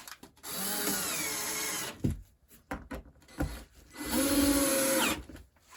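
A power drill drives two screws into a wooden cornhole board, two separate bursts of whirring motor of about a second and a half each, with clunks and handling noises between them.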